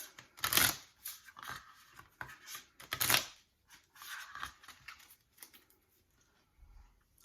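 A deck of cards for the Outlander board game is shuffled in irregular bursts of riffling and flicking, loud close strokes that thin into lighter taps toward the end, with no voices.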